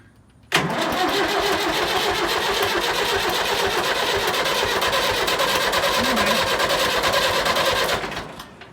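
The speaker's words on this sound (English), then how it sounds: "Hey, she cranked and she ran." A David Brown 990 tractor engine with a reworked injector pump cranks briefly and catches. It settles into a loud, steady diesel run close by for several seconds before cutting off.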